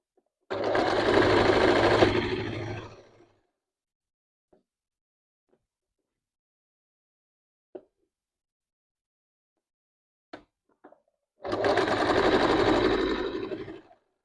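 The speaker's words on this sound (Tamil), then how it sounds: "கொஞ்சம் கஷ்டம்தான் தைக்கிறது, இல்லையன்று இல்லை. என்றாலும் பிரச்சனை இல்லை," A sewing machine stitches shiny fabric for a sofa cover in two loud, fast bursts at the start and end, separated by quiet stretches with a few faint clicks and taps.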